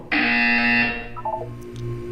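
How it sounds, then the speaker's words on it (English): A Portal 2 video game buzzer sounds once, a loud, harsh, steady electronic tone lasting under a second, followed by brief fainter electronic chimes over a low hum. "When you hear the buzzer, look down at the floor."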